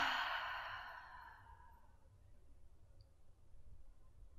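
A slow, soft exhale during a yoga breathing exercise trails off gradually over a couple of seconds, leaving near silence.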